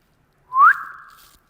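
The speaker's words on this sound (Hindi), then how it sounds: "सीटी मत बजाओ" A single short rising whistle from a student in a Class 10 physics classroom, sliding up in pitch then holding a steady tone for under a second, alone and fairly clear.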